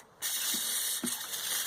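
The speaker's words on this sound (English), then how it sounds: "So I just have some all-purpose cleaner in my spray bottle here. I'm just going to give it a quick spray inside there." An all-purpose cleaner spray bottle hisses steadily into a pool pump during winterizing, a continuous close spray with a couple of soft knocks partway through.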